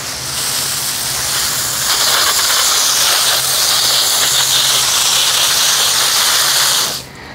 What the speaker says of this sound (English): So I could do my watering.